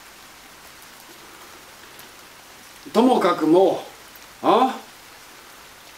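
Steady rain falls as a continuous soft hiss, with a voice speaking briefly over it twice.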